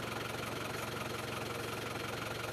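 A Hindustan Ambassador car's engine idles steadily, a close, continuous low rumble with an even pulsing throb and no voices, parked on a foggy road through the Wayanad Wildlife Sanctuary.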